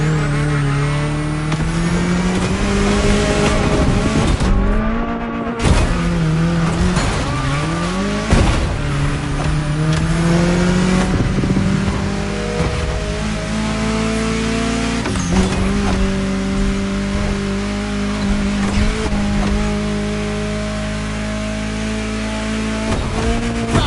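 A car drives through a state capital city in The Crew Motorfest, its engine loud and close, revving up and down through repeated gear shifts with occasional tire noise.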